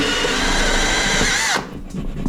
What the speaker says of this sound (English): see if we can do this one-handed. Get him up and start drilling